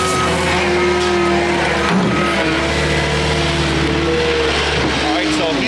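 Heavy tracked machine and tire machine working on a backyard excavation site, moving material with a loud, steady engine drone and grinding tones throughout, with voices talking over it.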